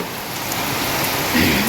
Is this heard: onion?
no